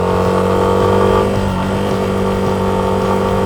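A Yamaha FZ25 motorcycle idles nearby with a steady, even engine hum and a faint mechanical whir, loud and continuous with no revving.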